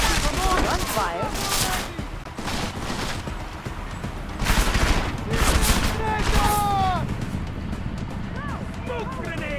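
Gunfire in Deus Ex: Mankind Divided: repeated bursts of shots and impacts in irregular clusters, loud and close, with voices shouting over the shooting.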